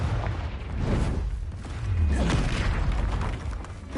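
The Confringo blasting spell exploding in Hogwarts Legacy, heard as heavy booming blasts with low rumbling bursts and crackling debris, two strong swells over a few seconds, loud and close.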